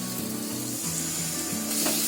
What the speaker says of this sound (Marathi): आता त्याच्यामध्ये आहे ना मी अर्धा कप दही टाकते.